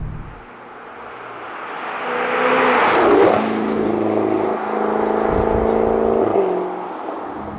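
A 2024 Jaguar F-Type R75 with a supercharged V8 accelerating hard, engine roaring and climbing in pitch, then shifting and pulling again, loud and close under a constant rush of road and wind noise.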